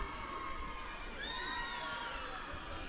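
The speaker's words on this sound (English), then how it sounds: "Some serious noise from the crowd here." A crowd at a women's varsity football match in London roars and cheers continuously, with high whoops and shouts rising above the sustained din; the noise is distant and fairly faint.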